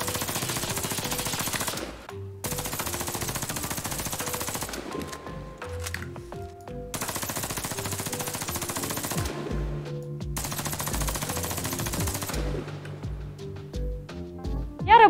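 Bursts of rapid automatic fire from a KAC PDW submachine gun in the shooter game Warface, several sustained loud volleys separated by short pauses, with no talking over it.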